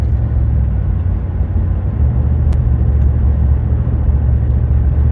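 A car driving along a road, heard from inside as a steady low engine and road rumble with constant tire whir, loud and unbroken, with no voices.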